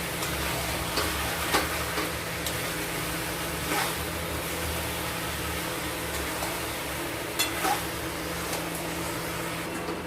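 Chicken being sautéed (kosha) in a pan with a ginger, garlic, onion and green chilli spice paste gives a steady low sizzle, with scattered stirring clicks and scrapes throughout and no talk.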